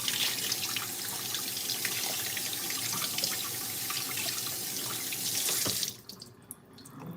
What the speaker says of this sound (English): Let's do another quick rinse.